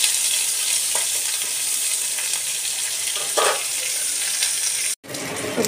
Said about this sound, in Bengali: এবার উচ্ছেটাকে এবার লাল লাল করে ভেজে তুলে নেব।